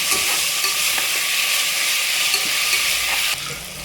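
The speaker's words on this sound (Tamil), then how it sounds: "தக்காளி நல்லா வதக்கிக்கலாம்." Tomatoes sauté in a pan for mutton kuzhambu with a steady, bright sizzle and occasional stirring scrapes, close and continuous, easing slightly at the end.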